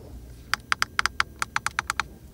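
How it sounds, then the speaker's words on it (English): A quick series of about a dozen crisp plastic button clicks from the climate control buttons of a Mercedes CLA, close up and fairly evenly spaced, with no talking. "The climate unit is still separate in the lower parts, so we also have a nice clicking sound."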